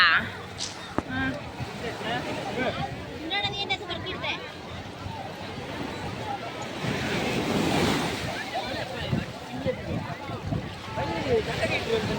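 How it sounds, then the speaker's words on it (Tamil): Sea waves wash onto the beach at Velankanni, a steady surf roar with wind buffeting the microphone, heard under people talking nearby throughout. "நம்ம கடல் பக்கத்தில் வந்துட்டோம்"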